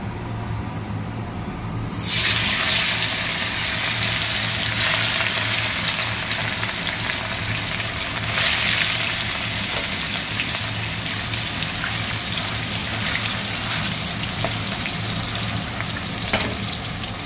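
Katla fish pieces rubbed with salt sizzle in hot oil, a loud, steady crackling hiss that bursts in suddenly and keeps going near and close, with occasional sharper pops.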